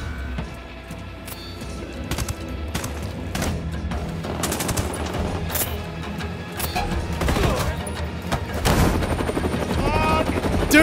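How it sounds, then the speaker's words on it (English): Helicopter rotor thumping loudly in Ghost Recon Wildlands, with bursts of machine-gun fire and gunshots layered over a busy, continuous combat din. "Get in the helicopter right now, Cheney!"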